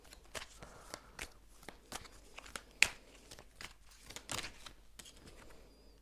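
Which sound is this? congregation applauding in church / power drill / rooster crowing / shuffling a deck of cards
shuffling a deck of cards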